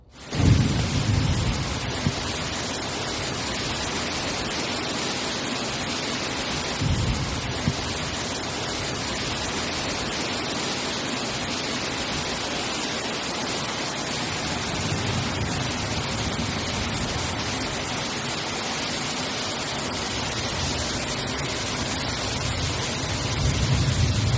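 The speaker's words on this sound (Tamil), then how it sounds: "சவுதி அரேபியாவில் நேற்றைய தினம் மழை ஆரம்பம்" Rain and thunder in Al Baha, Saudi Arabia: a steady, dense rush of rainfall holds evenly for the whole stretch, with faint low rumbles mixed into the wash and no voices.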